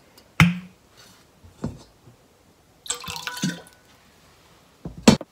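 Vinegar poured into a bowl of water while preparing Japanese nanka-age: a sharp clink and splash, a few soft drips, a brief trickling pour mid-clip and a final clink, close and clear with no talk.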